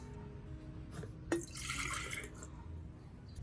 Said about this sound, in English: Pour it into a watering can and water around the base.